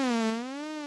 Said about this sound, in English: So let's raise the rate of it to about 1 hertz. So it's going to modulate, it's going to go through a sine wave cycle once every second.